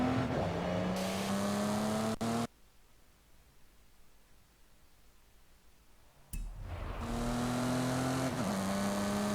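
A 1988 BMW M5 engine in Forza Horizon 5 revving steadily through the gears, loud and close, then cutting out into near silence for about four seconds before the engine drone picks up again and climbs.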